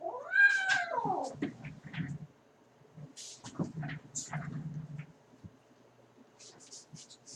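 A cat gives a single loud meow near the start, followed by quieter scuffling and soft rustling sounds.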